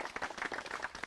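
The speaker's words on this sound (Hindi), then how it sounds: "तालियां भाई हमारी इन महिलाओं के लिए" A brief burst of audience clapping for the women at a rural farmers' forum, quick and fairly faint, with no one speaking over it.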